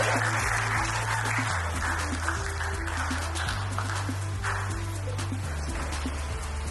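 Sustained clapping from an audience for a contestant at a tech competition final, even and continuous throughout, over a low droning hum with a brief voice near the end.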